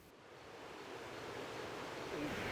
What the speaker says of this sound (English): It's flowing water. It's rushing.